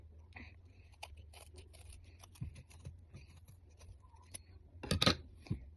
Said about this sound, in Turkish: Şimdi azıcık daha keseceğim.